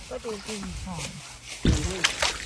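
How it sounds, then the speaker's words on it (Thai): Water flowing and splashing in a pond, a steady nearby slosh and trickle that swells into a louder splash partway through, with people talking over it throughout. "น้ำไหลสิ"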